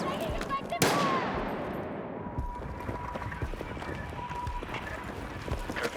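Machine-gun fire in the video game Battlefield RedSec rattles in sustained rapid bursts after a loud close blast, running steadily under shouted voices.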